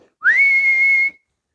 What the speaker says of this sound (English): And he whistled.